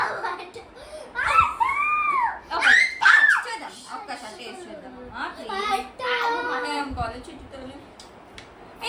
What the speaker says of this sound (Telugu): క్యూటీ ఏడుస్తుందా? ఏడుస్తుంది.